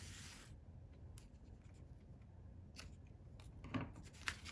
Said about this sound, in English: And we'll trim it up a little bit.